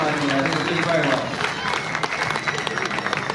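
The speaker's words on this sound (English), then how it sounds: "Ladies and gentlemen, give them a round of applause for all the gear." Spectators clapping at a horseboarding championship, a lively round of applause with crowd noise that softens slightly toward the end, mixed with voices talking over it.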